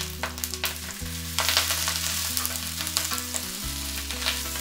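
Garlic, onion and vegetables stir-fry in oil in a sauté pan over high heat, giving a steady, close sizzle with stirring scrapes over a low constant hum, with no voices.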